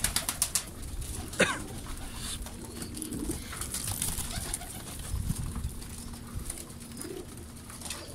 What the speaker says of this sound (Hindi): बहुत तो बहुत कबूतर है